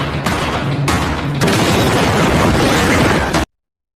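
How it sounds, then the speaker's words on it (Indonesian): A loud, harsh explosion that blows apart a door erupts in bursts, with a brief break before a sustained roaring crash that cuts off abruptly. "Tiba-tiba saja terjadi ledakan yang merusak pintu, lalu Charlie pun muncul"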